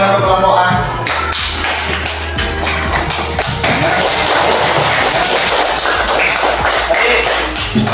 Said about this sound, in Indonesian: boleh tepuk tangan untuk kelompok A